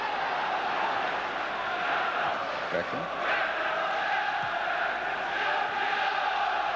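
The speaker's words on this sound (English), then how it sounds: "Certainly the crowd are doing their best to rouse Manchester United to draw that first goal into that Fenerbahçe net" Football stadium crowd at a Manchester United versus Fenerbahçe match, a broad sustained roar of chanting and cheering rising in surges, heard beneath a commentator's voice.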